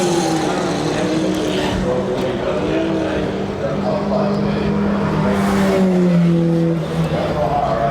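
A Formula Ford 1600 race car at a historic festival meeting, slowing with a problem, its engine droning steadily with sliding, slightly falling tones under continuous commentary.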